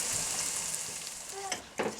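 Ginger and garlic fry in a pan for a curry, a steady loud hiss of sizzling oil with a few clinks and stirring scrapes near the end.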